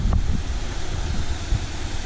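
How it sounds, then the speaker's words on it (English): A small waterfall pours steadily into rocky pools, a continuous close rush of falling water with a deep, full roar and no voices. "Beautiful little waterfall."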